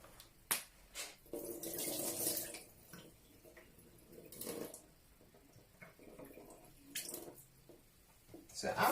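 Rice is rinsed in water in a pan, with intermittent splashing and swishing bursts and small drips between them; a person speaks at times.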